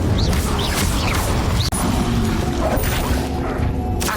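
Fire spell cast in Hogwarts Legacy on Switch, rendered as a dense wash of magical combat noise with whooshing bursts and a sharp impact partway through, continuous and loud, with no talking.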